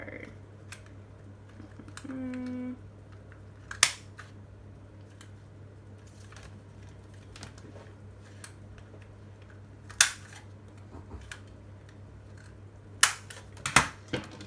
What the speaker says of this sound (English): just gonna use my corner rounder to round the corners as well